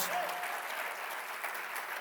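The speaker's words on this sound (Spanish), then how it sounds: "Un aplauso para esos grandes hombres de Dios que oraban por nosotros" Steady congregational applause in an Elim church service in Framingham, a soft even wash of clapping heard from some distance, continuing alone throughout.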